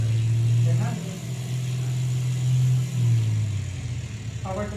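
Aircraft engine in a flight simulator holding a steady drone that shifts in pitch and level as power is set to different settings and back toward idle, loud and continuous, with a voice calling out over it.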